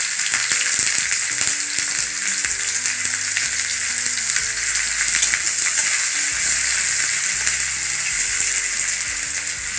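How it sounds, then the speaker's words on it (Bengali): Chopped onions fry in hot oil in a pan, giving a steady, close sizzling hiss for the whole stretch, with faint scraping tones underneath and no one talking. "এরপর পেঁয়াজগুলোকে তেলের মধ্যে ভালোভাবে এগুলোকে ভাজতে হবে"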